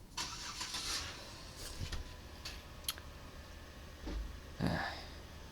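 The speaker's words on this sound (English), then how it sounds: "Neighbors are getting into a car and pulling out." A neighbors' car engine starts up and the car pulls out, heard faint and at a distance, with a few scattered clicks and knocks over a quiet background.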